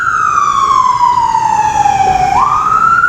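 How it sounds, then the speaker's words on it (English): An ambulance siren wails loud and steady as it passes close by, its pitch sliding gradually downward before a sharp rise near the end, with traffic rumble underneath. "We'll let that ambulance pass by"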